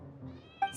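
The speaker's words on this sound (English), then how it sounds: "how can he get all of that from a simple meow?" A short cat meow from the Genshin Impact video game, heard faintly under background game music, rising briefly near the end of the moment.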